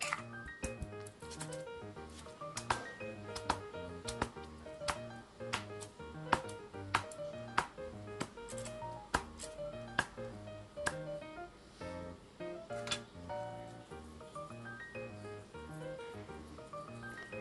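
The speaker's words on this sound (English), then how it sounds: "We cut up the lemongrass." Lemongrass being cut on a board for chicken inasal, a quick series of crisp knife chops and squishy slices in an uneven rhythm, close and moderately quiet, over faint background music.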